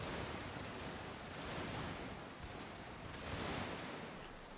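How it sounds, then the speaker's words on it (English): Musket volleys in Shogun 2 crackle as a soft, distant, continuous rolling fusillade, with overlapping shots blending into a steady battlefield roar. "I moved up this unit of Montgomery to shoot into the flank, currently laying down suppressive fire"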